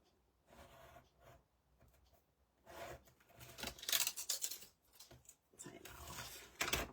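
Scissors trimming material close up, with repeated snipping and rasping cuts in irregular bursts and a brief pause between cuts.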